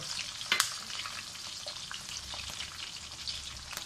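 Ginger sizzles and fries in a pan with garlic while cooking chicken pepper dry, a steady close crackle with a brief stirring clatter early on.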